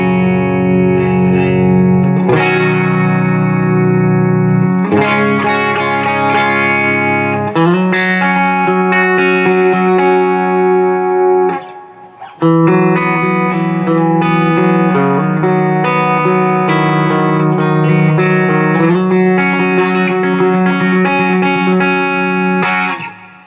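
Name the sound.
electric guitar through clean amp and pedal board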